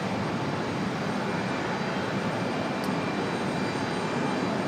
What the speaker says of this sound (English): Next up, we have American Airlines 2402 coming in from Charlotte.